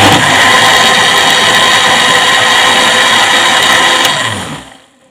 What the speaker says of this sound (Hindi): ये देखें यहाँ पे मैंने ग्राइंडर लिया है, इसमें दाल ऐड की है। अब हम इसको ग्राइंड करेंगे।